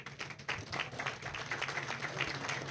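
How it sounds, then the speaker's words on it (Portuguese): An audience at a union congress solidarity session gives a steady round of applause for a speaker, a dense patter of many hands clapping, moderately distant and sustained throughout. "Salva de palmas para o companheiro"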